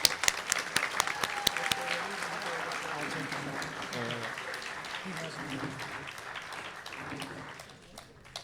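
An audience at an Eagle Scout Court of Honor claps in a room, a burst of scattered handclaps that fills in and then tapers off toward the end, with faint talk underneath.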